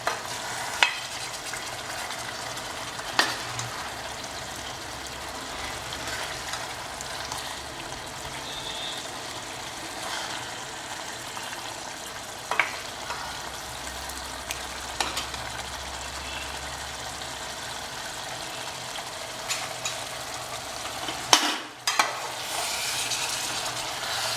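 Mutton ribs sizzle and fry in a masala gravy, a steady close-up crackle with occasional stirring knocks of the spoon against the pot, and no voices.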